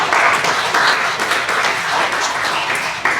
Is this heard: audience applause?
yes